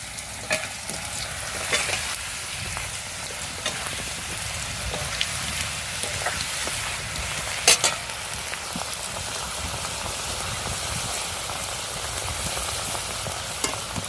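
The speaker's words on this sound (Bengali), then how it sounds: "দেখো বন্ধুরা, আলুটা আমার ভাজা হয়ে গেছে।" Potatoes fry in oil over a clay stove, giving a steady, close, dense sizzle with faint crackles and one sharp pop midway, and no voices.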